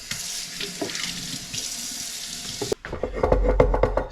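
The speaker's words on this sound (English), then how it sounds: "Give my hand another wash here." Hands are washed under a running tap in a kitchen while baking: steady splashing water that shifts abruptly partway through, becoming a louder, fuller gush with irregular splashes.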